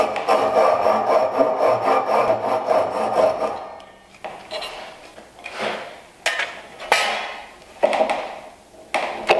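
A crosscut handsaw cuts diagonally through wood for tenons, first in a steady rapid series of close rasping strokes, then slower separate strokes with pauses between them.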